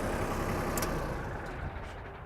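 A Mahindra backhoe tractor engine running steadily, a low rumbling drone with a brief hiss partway through, close and continuous with no talk.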